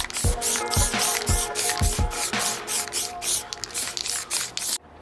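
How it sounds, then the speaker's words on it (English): Short hissing bursts of white spray paint from a can, several quick sprays in an uneven rhythm, loud and close, ending abruptly. "hit it with just a can of white spray paint"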